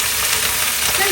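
Chaozhou spring greens hiss and sizzle continuously in a hot wok as they are tossed, a loud close broadband frying noise with no speech.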